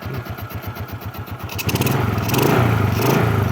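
A 2005 Suzuki Smash motorcycle engine runs with a steady, rapid putter at close range, then revs up and grows louder and rougher partway through, with no talking.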